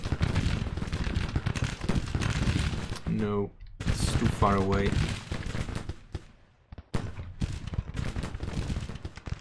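Booming cannon and rifle fire from a Civil War battle in the strategy game Grand Tactician: The Civil War, a dense, continuous crackle of volleys with someone talking over it.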